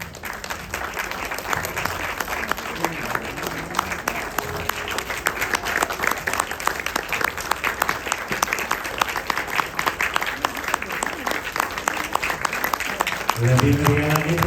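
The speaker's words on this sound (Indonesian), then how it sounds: "Lebih meriah lagi tepuk tangannya boleh buat Martin." Guests at a sangjit engagement ceremony applaud the groom-to-be Martin, a dense, steady wash of clapping from a crowd that holds for the whole stretch, with a voice briefly audible near the end.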